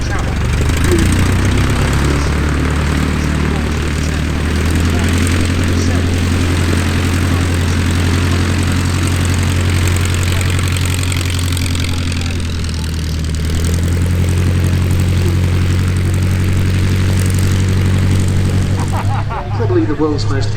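A de Havilland DH-89A propeller airliner flies past at an air show, its engines droning with a steady low hum that shifts in pitch as it passes, while a commentator talks over it.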